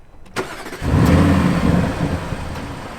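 An Audi RS6 Avant engine starts with a brief crank, catches, then settles into a low, steady idle, loud and close inside the car.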